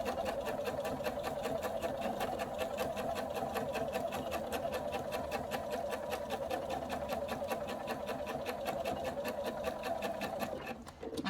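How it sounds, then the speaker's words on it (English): A domestic sewing machine runs steadily, stitching quilted fabric for a conical peg bag, its rapid even needle rhythm continuous and close for about eleven seconds before slowing to a stop at the end. "that line of stitching is at the edge of the foot. And we're going to just keep going round."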